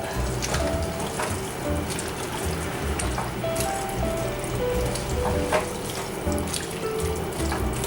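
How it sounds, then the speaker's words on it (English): One-pot vegan chili is stirred in a cooking pot, giving a steady wet, bubbling and sizzling wash with soft scraping clinks. "Stir this up."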